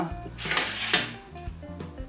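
Hot glass jars of fermented pickles being lifted out of the appliance, with several sharp clinks and clatters of glass and metal in an irregular rhythm, close and fairly loud.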